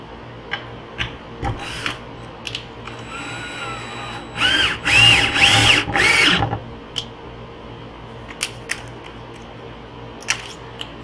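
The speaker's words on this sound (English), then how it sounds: "I only have one drill" A cordless power drill driving screws into PVC pipe, several short whirring bursts with a longer cluster of pulsing spins in the middle, close and moderately loud between quiet pauses.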